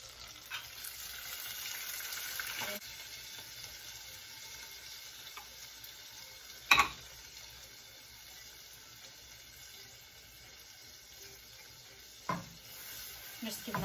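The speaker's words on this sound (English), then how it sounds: "So it's going to start to sizzle" Quiet, steady sizzling in a pan while making millionaire shortbread, with a couple of sharp clinks of a utensil against the pan.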